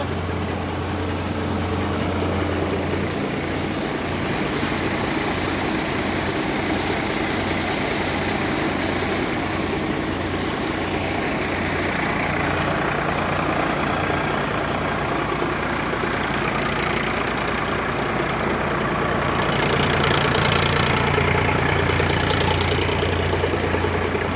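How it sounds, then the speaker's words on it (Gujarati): A tractor-driven thresher crushes a mustard crop, its loud engine droning without pause under a rhythmic low pulsing of the machinery, close and steady throughout. "ટ્રેક્ટર રાયડાના ભૂક્કા બોલાવે છે મિત્રો."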